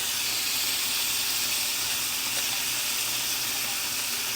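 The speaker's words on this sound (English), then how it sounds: "You want to make sure you get the sizzle" Steady, dense hiss of steak sizzling on a hot hibachi griddle, continuous and fairly loud with no voices.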